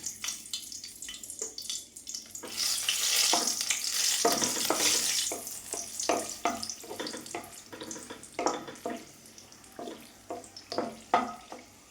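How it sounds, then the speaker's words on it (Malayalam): Dried red chillies frying in sunflower oil in a kadai make a sizzling, crackling hiss that swells and then settles, with intermittent stirring scrapes. "ഞാൻ ഒരു രണ്ട് മൂന്ന് ഉണക്കമുളക് ഒന്ന് മുരിച്ചെടുക്കണം മൂപ്പിച്ചെടുക്കണം"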